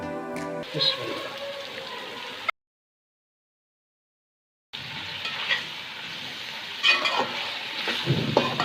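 Chopped capsicum and carrots stir-fried for vegetable fried rice, with a close sizzle and scraping spatula strokes, a brief stretch of complete silence midway, then more stirring and clatter.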